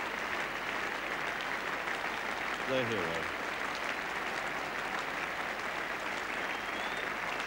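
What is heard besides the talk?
cricket crowd at Headingley applauding a batsman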